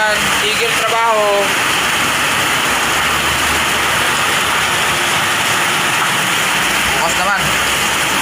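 Heavy rain pours steadily, a loud dense hiss filling the scene from start to finish, with someone briefly speaking over it.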